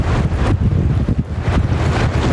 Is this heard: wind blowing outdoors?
yes